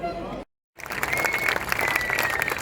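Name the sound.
applause at French XCE mountain bike championship podium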